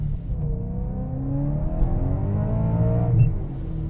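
Supercharged car accelerating hard in first gear, its engine note climbing steadily in pitch over a few seconds with a rising whine, loud and close, with no talking.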